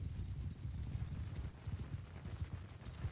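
Horse hooves clip-clopping in quick irregular rhythm in the video game Mount & Blade II: Bannerlord, faint and steady over about three seconds, no voices.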